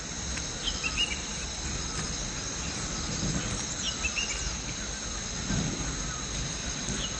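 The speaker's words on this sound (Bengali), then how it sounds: "চারদিকে ঝিঝি পোকা আর পাখির ডাকটা শুধু তোমরা শোনার চেষ্টা করো।" On a hillside in the morning, crickets give a constant, high shrill drone while faint bird calls come through now and then over a low distant rumble.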